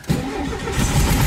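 A VW Beetle engine cranks and catches, settling into a loud, close, steady running rumble with the throttle held slightly open.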